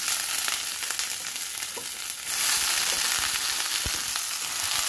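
Garlic and onion sautéing in a hot pan, a dense steady sizzle and crackle with occasional small pops, growing slightly louder partway through.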